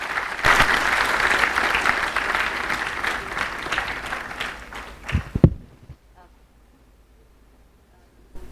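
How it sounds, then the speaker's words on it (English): Audience applause at a business conclave session, a loud sustained wash of clapping from a large crowd that thins with a few final heavy thumps, then drops to near silence. "please give a huge round of applause for Swami Mukundananji."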